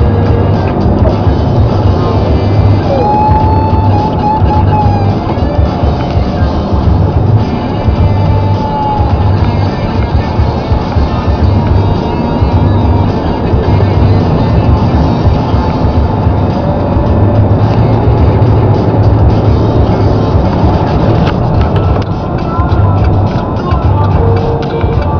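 A car pulling onto Highway 11 between Washago and Muskoka, steady loud road and engine rumble heard from inside the vehicle, continuous throughout with no clear speech.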